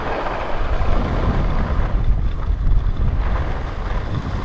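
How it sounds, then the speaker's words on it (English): Strong wind roars steadily across the microphone, a loud broadband rush with slight fluctuations and no other clear sounds. "it's a little windy for sure coming down the hill"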